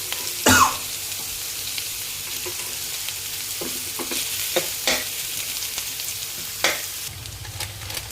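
Carrot and potato pieces fry steadily in a pan, a constant sizzle broken by a few sharp stirring scrapes and clinks, heard close with no talking.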